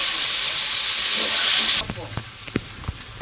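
Water poured into a hot frying pan with soaked beans bursts into a loud, dense hiss that cuts off abruptly, followed by quieter sizzling and a few sharp stirring knocks.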